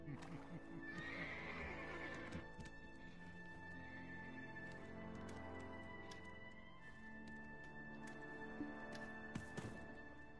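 A horse whinnies and neighs amid hoof clip-clops, set against a steady game soundtrack drone, with faint clicks and soft thuds scattered through.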